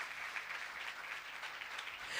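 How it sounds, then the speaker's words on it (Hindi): Church congregation applauding for a preacher's tribute, a steady wash of hand claps from many people holding an even level and filling the room for a couple of seconds with no voices on top. "मुकद्दस पौलुस की जात के लिए जोरदार तालियां बजाएं"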